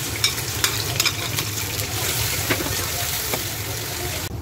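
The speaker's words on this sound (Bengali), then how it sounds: "পেঁয়াজ রসুন ভাজা হয়ে গেছে" Onion and garlic fry in hot oil with a constant close sizzle, punctuated by occasional scraping stirs of a utensil against the pan.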